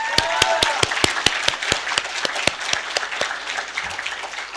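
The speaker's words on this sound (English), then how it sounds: "Please give them a round of applause." Audience applause at a graduation ceremony: a steady, dense round of clapping with sharp individual claps standing out near the front, sustained for several seconds and tapering slightly toward the end.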